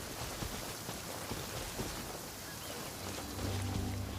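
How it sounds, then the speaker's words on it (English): Rain in the game Genshin Impact, a dense steady hiss of falling drops with a low thunder rumble, growing slightly louder toward the end. "It's raining again."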